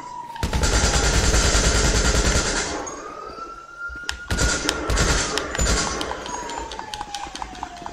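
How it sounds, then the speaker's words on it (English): Video-game gunfire as a player shoots an enemy: a few short bursts of sharp shots in the second half, over a loud sustained rising and falling siren-like tone and other game sound. "I'm gonna shoot this dude."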